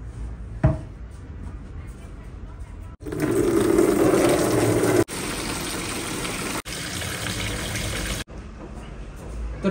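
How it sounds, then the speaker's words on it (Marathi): Water pours into a container in a home kitchen, a steady broadband rush from about three to eight seconds, briefly interrupted twice, with quieter room noise and a knock before and after. "तर पाणी भरून झालंय"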